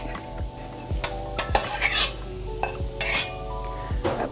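Tarbais beans are spooned over meat in a Staub cocotte, producing a handful of close metallic clinks and knocks of a spoon against cast iron, with a soft low rumble beneath.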